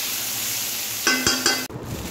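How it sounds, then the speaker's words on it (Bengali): Papaya pieces frying in a pan with dry red chilli and mustard seed tempering, a soft steady sizzle broken by a few sharp stirring scrapes and crackles near the end. "শুকনো লঙ্কা সর্ষে ফোড়ন দিয়ে পেঁপে ভাজা"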